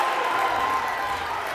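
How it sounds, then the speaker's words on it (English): Crowd noise at a girls' basketball finals game, Copley Indians fans cheering loudly in a gym, a steady roar of voices and applause with no pause over the whole moment. "Copley crowd going nuts right now."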